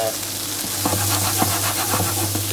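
Parsley sizzles in a hot pan while soup with chickpeas and chorizo is cooked, giving a steady loud frying hiss broken by several short stirring scrapes and taps, with a low hum under it.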